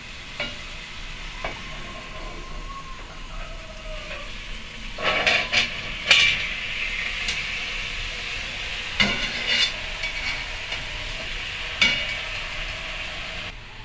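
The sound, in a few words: chicken frying in cast iron pan on kerosene stove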